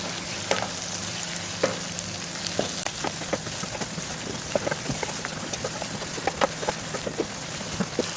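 Tomatoes sauté with softened onions and a pinch of salt for Sankara fish kuzhambu, making a dense crackling sizzle like rain, with frequent sharp ladle taps and scrapes throughout.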